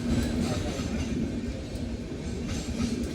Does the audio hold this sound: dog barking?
no